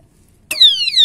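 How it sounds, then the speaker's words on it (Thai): A Wasana motorcycle disc brake lock's anti-theft alarm bursts on abruptly after half a second of quiet, blaring a loud, piercing electronic siren with sweeping pitch that continues close by without any speech. "นี่มันจะดังมันจะเป็นสัญญาณการขโมยด้วยเห็นไหมฮะแต่มันจะดังอยู่ประมาณ10วินะครับ"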